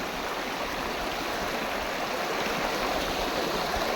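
A large river rushing during a crossing: broad, dense, continuous flowing water, loud and close, with no breaks and no voices.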